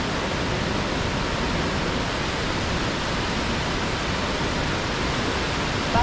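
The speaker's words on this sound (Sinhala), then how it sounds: "මෙතනින් තමයි රම්බෝ ඩැල්ල." Ramboda waterfall in heavy flow after rain, a dense, steady roar of falling water that stays loud and unbroken throughout, with no voices over it.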